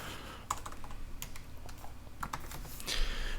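Someone re-types an email address on a computer keyboard, giving a close run of quick, uneven key clicks with a few louder taps and short pauses, with no one speaking.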